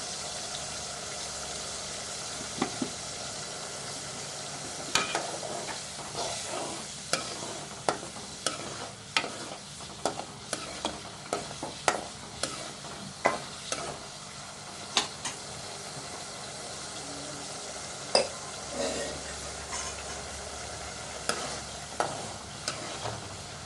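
Spices tempering (vaghar) sizzle in hot oil for Kathiyawadi-style undhiyu, a steady frying hiss broken by frequent sharp stirring clicks and scrapes, close and moderately loud with no talking.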